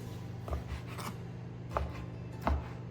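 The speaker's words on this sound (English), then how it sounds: "I just want to cut this into pieces so that you can have it with the sauce, the broccoli, and the rice." Knife cutting cooked food into pieces on a board, a few distinct thuds and scrapes spaced about a second apart over a steady low kitchen hum.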